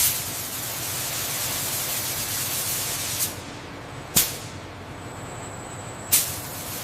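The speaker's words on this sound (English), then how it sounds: "The specialized robotic spray nozzle applies the thick, charcoal gray ram coating uniformly" A robotic spray nozzle applies thick charcoal gray radar-absorbing coating in a Su-35 fighter jet factory, giving a steady close hiss broken by a few short sharp bursts of spray.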